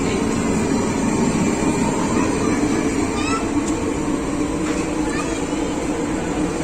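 Hazara Express train at a station platform in Pakistan, a continuous loud rumble of rolling wagons and engine with station bustle and a brief squeal, running throughout the clip.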